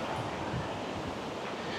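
Strong ocean waves wash onto a Boracay beach, making a steady, rushing surf mixed with gusty wind buffeting the microphone.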